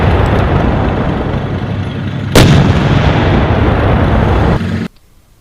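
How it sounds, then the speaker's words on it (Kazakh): A tank firing its cannon: a long, heavy roar of rumbling blast noise, split by one sharp, loud crack near the middle, then cut off abruptly into near silence. "Танк ату кезінде."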